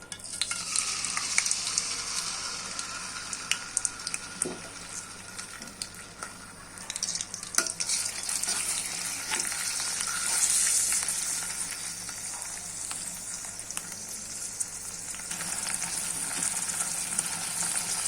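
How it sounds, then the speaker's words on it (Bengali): Onion, ginger and garlic paste frying in hot oil for a tengra fish curry, a continuous close hiss and crackle with occasional spoon knocks and scrapes against the pan. "3 চা চামচ পেঁয়াজ বাটা, 1 চা চামচ আদা বাটা, 1 চা চামচ রসুন বাটা দিয়ে দিই।"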